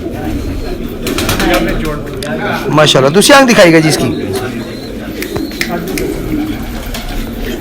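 A pigeon coos softly in the background while someone talks steadily over it close to the mic.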